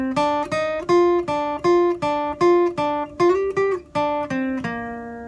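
An instrumental guitar phrase from a song, a steady run of about a dozen cleanly plucked single notes, each ringing briefly before the next, played close and alone.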